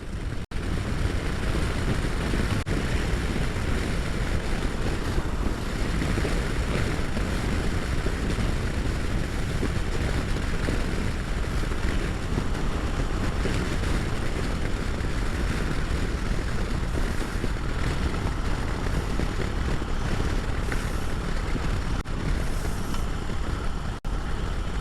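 A Harley-Davidson Road Glide motorcycle in a running fault condition, with steady, loud engine drone and broad wind rush throughout as it rides along, no voices.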